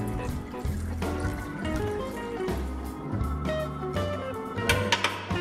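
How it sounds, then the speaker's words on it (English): Transmission fluid drains from the dropped pan of a Jeep WJ in a garage, a steady close trickle and splatter with small drips that continues without pause. "You can kind of even leave that hang and let it go ahead and drain."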